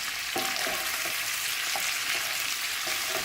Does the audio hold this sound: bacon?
yes